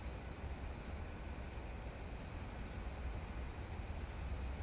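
Trains run through a video game's brick transport network, giving a steady, continuous rumble of rolling wagons that stays at an even level throughout with no talking.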